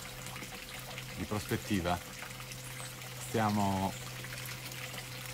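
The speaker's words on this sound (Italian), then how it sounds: "Ditemi se sentite bene, sentite troppo il rumore dell'acqua." Water flows outdoors in a continuous steady rush, with a voice speaking over it in short bursts.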